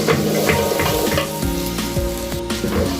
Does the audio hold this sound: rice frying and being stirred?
yes